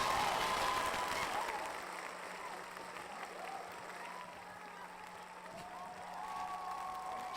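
A crowd applauds and cheers during a radio broadcast, the clapping louder at the start and then settling into a steadier, slightly distant wash of hands and voices that swells again toward the end.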